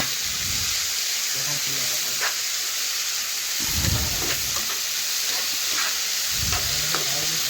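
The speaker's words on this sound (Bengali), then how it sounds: "এখন সব কিছু ভালোভাবে একসাথে মিশিয়ে কিছুক্ষণ আমি ভেজে নেব" Potato, carrot and beans with turmeric and salt frying under a loud, steady hiss of hot oil, broken by a few low thumps and scrapes of stirring close by; no speech.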